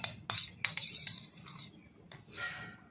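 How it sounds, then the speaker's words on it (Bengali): A spoon clinks and scrapes against a container while stirring powdered milk into cold water for homemade bread, with several sharp metallic taps and soft swishing strokes at close range, no voices. "তার মধ্যে আমি গুঁড়ো দুধটা মিশিয়ে দিব"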